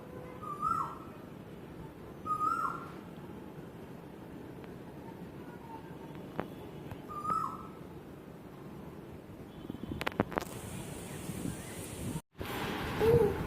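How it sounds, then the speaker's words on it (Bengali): An Asian koel calls from trees near a balcony, a few short, separate notes at moderate distance over a soft breezy background, followed by brief clattering noises near the end. "কোকিল ডাকতেছে"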